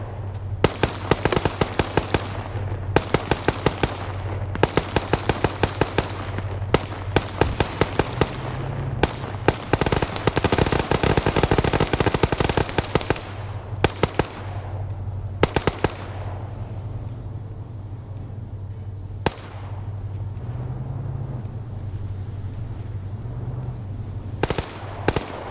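Sustained gunfire in a military video game match: many bursts of rapid automatic shots, loud and close at first, then thinning out to scattered single cracks over a low steady rumble.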